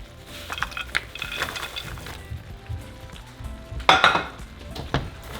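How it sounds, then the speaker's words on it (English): Metal spoon scraping and stirring fried pork chicharrones through simmering salsa in a pan, with intermittent clinks and a soft sizzle, one sharper clatter near the end. "And just mix it with your salsa."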